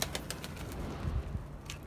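Tumbler pigeons in a loft, with several quick bursts of wing flapping and a few soft low coos close by, set against faint background noise.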